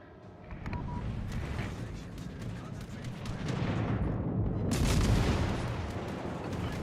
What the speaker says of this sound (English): Airstrike and shots out from Shannon.